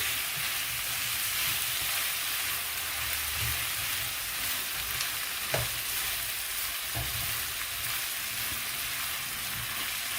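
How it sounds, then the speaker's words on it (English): Shrimp frying in a stir fry pan over medium-high heat, a loud, dense, unbroken sizzle with occasional spatula knocks and scrapes, close by and without speech. "So we'll get the shrimp cooked in there."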